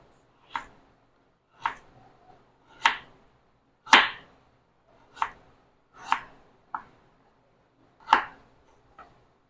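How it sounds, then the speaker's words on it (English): A knife slices through a turnip on a cutting board in about nine crisp, separate chops, spaced roughly a second apart, close and clear against a quiet background. "Cut up our turnip. We'll just do slices of this one."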